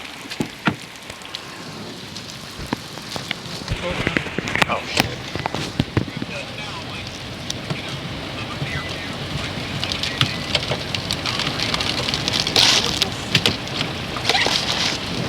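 Steady rain falls outside with a dense patter and scattered louder drops, continuous and fairly close throughout. A person speaks briefly over it.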